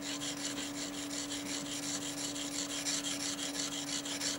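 Hand engraving graver rubbed back and forth on a fine diamond-paste lap for sharpening, an even rhythmic rasp of repeated swipes, close and steady over a faint hum, no voice.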